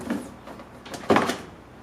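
Plastic clips popping as a door panel is pulled off a 1997–2001 Honda CR-V, a few soft creaks then one sharp, close snap of the trim releasing, with no talk.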